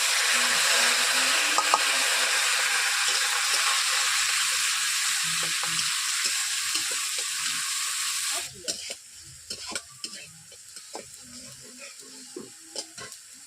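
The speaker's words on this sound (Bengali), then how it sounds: "টমেটো আর আদাটা ভেজে নেওয়া হয়ে গেছে" Tomato and ginger paste fries in oil with panch phoron spices, a loud steady sizzle for several seconds, then quieter frying broken by scraping stirs of a utensil against the pan.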